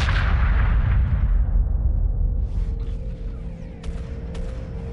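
Weapons fire and explosions in the space strategy video game Homeworld Remastered give a loud rumbling barrage that slowly fades, followed by a few sharp bursts, with no talking.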